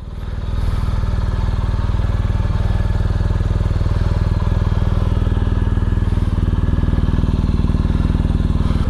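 A BMW R1250GS motorcycle fitted with a BT-Moto Stage 1 upgrade idles steadily while warming up, its close, loud boxer-engine pulse holding an even rhythm throughout with no talking.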